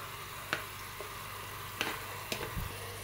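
Onion and leek fry in a pan for a Málaga-style potato and meat stew, giving a faint, steady sizzle with a few small pops and ticks.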